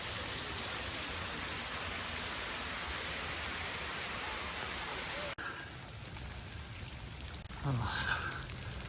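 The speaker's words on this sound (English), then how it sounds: "This rain's not letting up." Cold rain pattering on a muddy hiking trail at Starved Rock State Park, a steady hiss that thins after a sharp knock midway, with a brief brighter rustle near the end.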